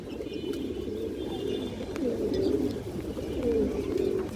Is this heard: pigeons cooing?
yes